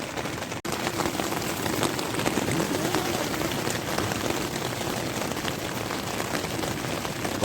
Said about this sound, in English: even though I know it's raining